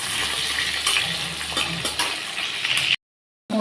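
Potatoes fry in hot oil in a pan, a steady loud sizzle with a few stirring scrapes, running nearly continuously before cutting out abruptly near the end.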